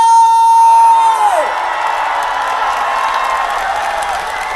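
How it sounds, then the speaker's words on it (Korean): A concert audience at an outdoor MG charity music event in Dongsuwon cheers and shouts loudly in a sustained roar, after a host's voice and a brief musical tone at the start. "우리 함성 한번 신나게 한번 가봅시다"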